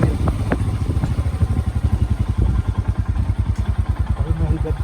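A motorcycle engine running in second gear on a road around Ooty, with a loud, close, steady pulsing thrum throughout and a person's voice faintly under it.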